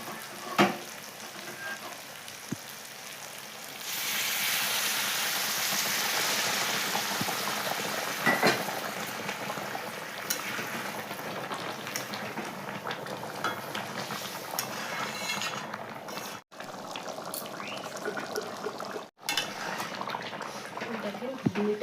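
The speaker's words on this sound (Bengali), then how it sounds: "জলটা এখন দিয়ে দেবো ঘুগনিতে।" A pot of chicken, potato and dried pea ghugni bubbles and sizzles as hot water is poured in, then simmers in a steady wash of boiling sound, with someone speaking over it.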